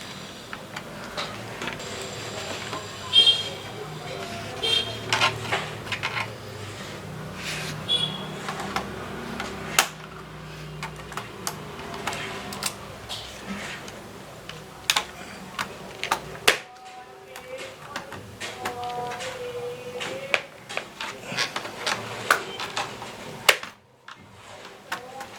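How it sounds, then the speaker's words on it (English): A laptop keyboard is pried off during a DIY RAM upgrade, giving a long run of sharp plastic clicks, snaps and ticks at close range, irregular and loud, over faint background noise. "We will also have to remove the keyboard."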